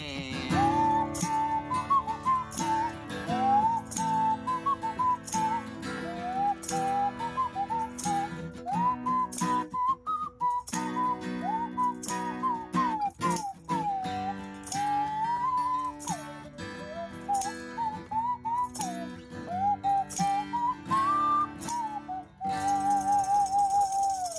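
A breathy, whistle-like nose flute melody wavers over a full band backing of drums and chords, played live at moderate loudness without speech.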